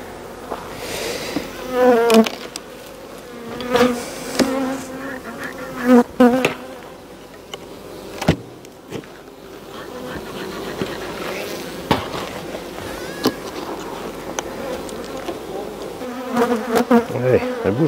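Honeybees swarm over the frames of an opened hive as colonies are expanded, a dense continuous buzz with individual bees droning close past, punctuated by sharp knocks and scrapes of frames being handled.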